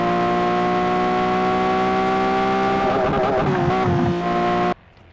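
Racing car engine in the Asphalt 8 video game, a loud steady high-pitched whine held at constant revs, wavering and shifting near the end before cutting off abruptly.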